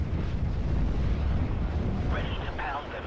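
Artillery fire in Steel Division: Normandy 44 on the Caumont l'Éventé map, with deep, continuous rumbling booms and blasts filling the scene, and a voice breaking in briefly near the end.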